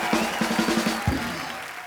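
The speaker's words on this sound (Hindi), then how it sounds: "जोरदार ताली हो जाए ऋतिक भाई के लिए।" A studio audience on a Hindi celebrity comedy talk show claps in steady, continuous applause with a rhythmic pulsing beat underneath, filling the whole short stretch.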